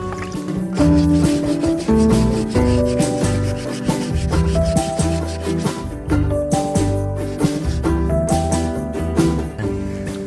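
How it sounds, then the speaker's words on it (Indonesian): Steady rhythmic rasping of sandpaper, 150 then 1000 grit, rubbed back and forth over a metal motorcycle exhaust pipe, close and continuous with a faint musical background. "saya ini pakai amplas yang 150 dulu ya bro, dan ini yang ukuran 1000 terakhiran"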